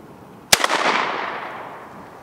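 A VEPR 12 AK-style shotgun fires a single light load outdoors, a sharp loud blast followed by a quick mechanical clack and a long fading rumble and echo.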